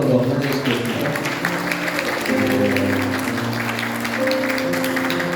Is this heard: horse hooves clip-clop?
no